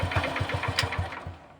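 A motorcycle engine, running again after its original CDI unit was put back in, idles with a steady, rapid chugging pulse and a brief mechanical tick partway through, then fades slightly at the end.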